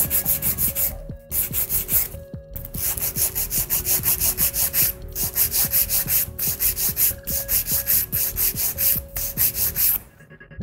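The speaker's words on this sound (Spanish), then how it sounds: "utilizando la lima 180 para limar laterales" A 180-grit nail file rubbing along the sides of a fingernail, heard as a close, continuous rhythmic scraping with quick back-and-forth strokes and a few brief pauses, with no voices.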